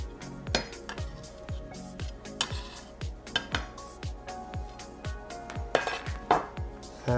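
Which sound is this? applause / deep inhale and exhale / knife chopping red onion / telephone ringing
knife chopping red onion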